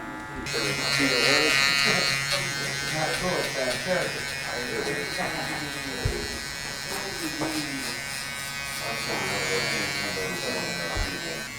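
An electric shaver buzzes steadily nearby while blending a haircut, its hum changing pitch slightly as it moves, while a person talks over it.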